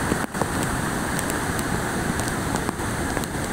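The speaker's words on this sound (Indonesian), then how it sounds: "hujan masih ekstrim disertai petir." Heavy rain pours down near a dam and suspension bridge during a storm, a loud dense hiss of downpour with a few brief gusts, no voices.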